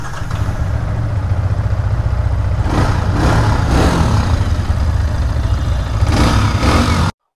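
A second-hand Yamaha R15 V3 Indonesian-version motorcycle runs close by, its loud engine idling at a steady rumble with several brief rev swells before it cuts off abruptly at the end.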